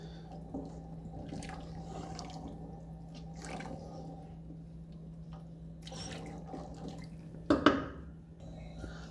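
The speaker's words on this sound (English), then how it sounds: "So now we're gonna pour it, the coconut water." Coconut water poured into a pot of rice and peas nearly done cooking: soft liquid drips and splashes over a steady low hum, with a brief louder splash near the end.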